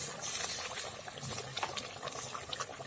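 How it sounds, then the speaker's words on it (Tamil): Chicken curry gravy for pichipota kozhi bubbles at a boil in a pot, with a steady close-up stream of soft popping and gurgling bursts at modest volume. "இப்போ குழம்பு நல்லா கொதிச்சிருச்சுங்க."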